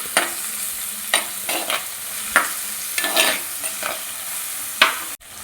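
Tomatoes and green chilies fry in a pan for a Kerala-style fish curry, a steady sizzle broken by repeated sharp stirring scrapes of a utensil, loud and close, no voices.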